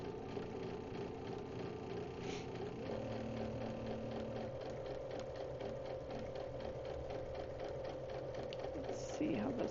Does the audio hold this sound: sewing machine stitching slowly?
yes